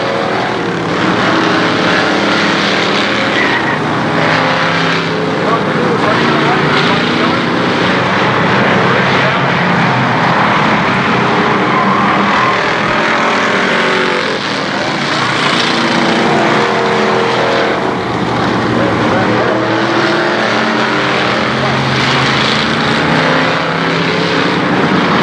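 Race cars run continuously at KilKare Speedway during the Labor Day Championships, a steady broadband engine roar that swells and fades slightly as the pack circles, loud throughout with no clear pauses.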